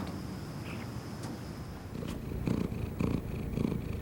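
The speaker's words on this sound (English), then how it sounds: "A happy cat. Purring, relaxed tail, rubs against you." A contented cat purrs close up, a low, continuous rumble that is soft at first and then grows a little stronger in rhythmic pulses.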